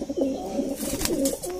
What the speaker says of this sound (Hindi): ये भी गोल्डन कबूतर है जी